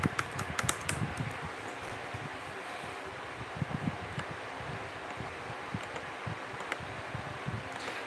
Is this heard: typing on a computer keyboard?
yes